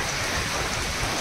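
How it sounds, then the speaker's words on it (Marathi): Heavy rain falls at the seashore in a dense, unbroken wash of hiss over a low rumble, brief and steady throughout. "पाऊस पण एवढा पडतोय"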